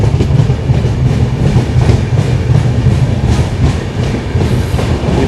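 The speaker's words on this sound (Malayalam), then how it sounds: "ട്രെയിൻ അങ്ങനെ ആരക്കോണം ജംഗ്ഷൻ റെയിൽവേ സ്റ്റേഷനിലേക്ക് എത്തിയിരിക്കുകയാണ്" A superfast sleeper-class train running from Mangaluru Central to Chennai Central, arriving at Arakkonam Junction, gives a loud, steady low rumble with rhythmic clickety-clack from the wheels throughout, with no voices.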